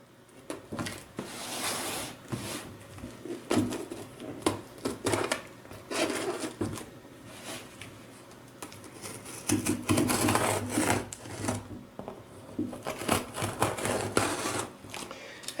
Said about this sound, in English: Let's cut the package.